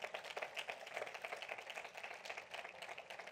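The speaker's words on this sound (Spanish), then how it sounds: "Denle un aplauso al Señor." A church congregation claps during a Spanish-language sermon, producing soft, fairly distant applause with a quick, scattered patter that swells and dips throughout.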